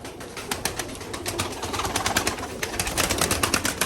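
Pigeons in a loft cooing close by, with soft, repeated coos and rustling layered over a constant background hum; no talking.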